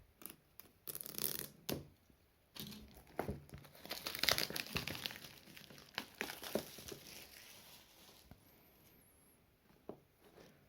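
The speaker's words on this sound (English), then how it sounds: "So let's try to get rid of the plastic." Plastic wrap being peeled off a new Alldocube iPlay 70 Mini Pro tablet, close and fairly quiet crinkling and crackling in irregular bursts with short rustling pauses and no talking.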